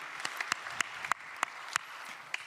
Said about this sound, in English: feel free to applaud these great guests